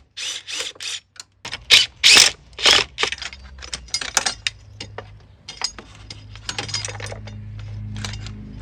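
An impact wrench removes the battery terminal nut on a Nissan Sentra in a string of loud, sharp mechanical bursts, several short ones and then longer rattling runs, close by with no talking.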